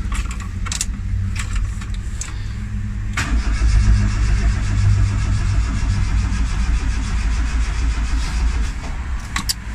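Turbo Tofaş car cranking in repeated starter bursts without catching, close up, with some jingling and clicks mixed in; no speech.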